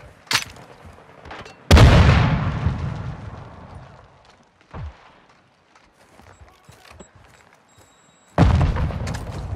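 A grenade detonates in Call of Duty Modern Warfare 2 multiplayer with a loud, close boom and a rumbling decay, followed later by another sharp blast and some smaller distant pops.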